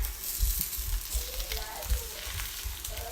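Eggs and breakfast hash frying in a large pan give a steady, close sizzle with crackling pops, running alone without talk.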